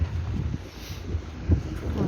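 Wind buffets the microphone in a steady low rumble with gusty swells, filling the moment without any voices.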